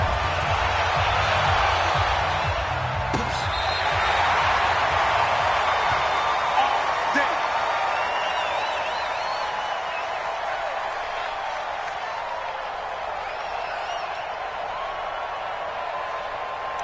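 Steady roar of a sellout stadium crowd in a football video game, the Falcons facing the New Orleans Saints, a dense continuous wall of cheering that stays loud for the whole stretch with a slight swell early on.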